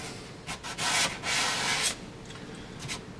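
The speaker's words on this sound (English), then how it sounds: "I'm gonna take it off now so I can work on sanding this little spot." Hand sanding on a maple kitchen cabinet, a few rough scratchy strokes with a longer steady rub in the middle, close and moderately loud, then quieter brief rubs.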